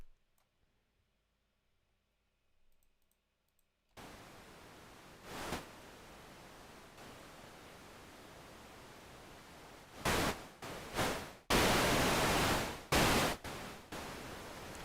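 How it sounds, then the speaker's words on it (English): An audio plug-in putting out white noise: silence, then a steady broadband hiss that switches on abruptly, broken by several louder bursts and brief cuts. "that's some white noise if I've heard it."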